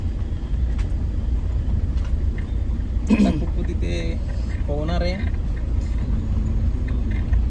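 A car drives along with a steady low engine and road rumble beneath people talking inside the vehicle.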